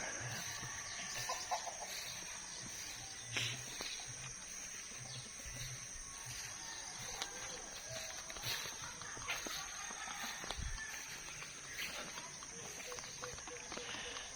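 Chickens in a coop cluck and murmur softly in the distance over steady outdoor ambience at a small rural farm, with occasional scuffs and footsteps nearby.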